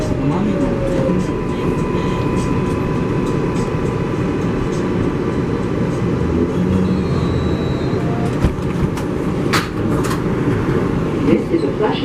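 Interior ride on an MTA 7 local subway train bound for Flushing Main Street, a loud continuous rumble of wheels and motors with faint squeals and occasional clanks, voices talking underneath.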